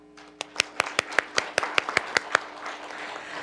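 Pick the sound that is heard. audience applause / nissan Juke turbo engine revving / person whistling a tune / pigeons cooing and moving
audience applause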